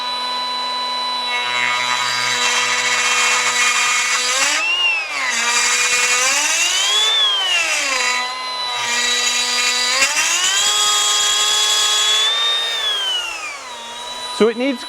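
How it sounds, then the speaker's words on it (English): A Metabo HPT 18V brushless variable-speed die grinder whines steadily at high pitch while grinding a bolt, its pitch rising and falling under load in several swells before spinning down at the end. "Grind away at this bolt a little here."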